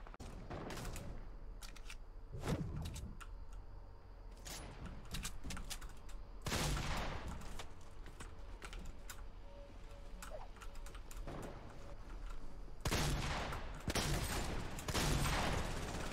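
Quiet video game gunfire aimed at a sniper in a tree, scattered shots and short bursts spread across a faint background, including a louder cluster near the end.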